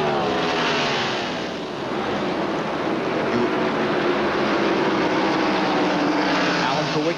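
NASCAR stock cars race at the 1991 Mello Yello 500, a loud, continuous roar of engines that swells and eases slightly as the pack passes, with no clear pauses.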